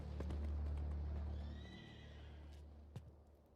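A horse neighs and whinnies in Metal Gear Solid Delta: Snake Eater, one loud close call over a steady low rumble, trailing off into quieter ambience with a brief sharp knock near the end.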